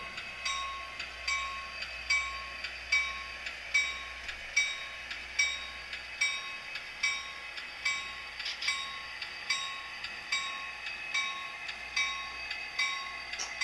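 An SD60i model diesel locomotive, an Athearn Genesis model with Tsunami sound, hums steadily at a moderate distance, wheels clicking in a regular rhythm over rail joints, with no voices.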